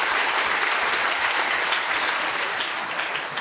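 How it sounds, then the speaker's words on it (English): A lecture-hall audience at a Royal Institution Christmas lecture on food gives a big round of applause for Louise Kenny, dense, loud and continuous clapping alone for several seconds. "Big round of applause for Louise Kenny."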